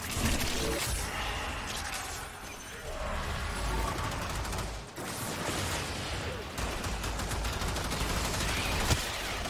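Gunfire in the video game Warframe, dense sustained bursts of shooting and impacts filling the mix loudly and continuously, with someone talking faintly underneath.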